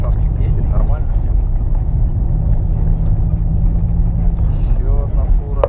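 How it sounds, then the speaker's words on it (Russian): On a frozen river ice crossing near Yakutsk in winter, a heavy semi truck passes with a loud, steady low rumble, heard from inside a vehicle while people talk quietly in the background. "И вот навстречу нам попадаются вот такие вот фуры."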